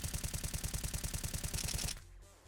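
An M4A1-S rifle in Counter-Strike 2 fires a rapid, evenly spaced burst of roughly fifteen suppressed shots, loud and close, before cutting off into quiet.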